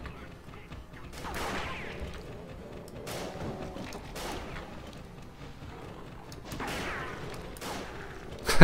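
Several gunshots ring out in the video game Pirate Doom, spaced booming blasts with tails that fade into a low background rumble, followed by a sharp loud hit at the very end.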